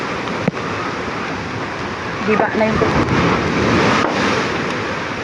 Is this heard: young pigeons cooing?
no